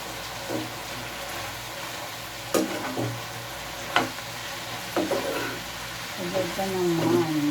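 Fried tofu stir-fried in a pan with cauliflower: a steady low sizzle broken by several sharp spatula scrapes and clatters, with a faint voice-like tone near the end.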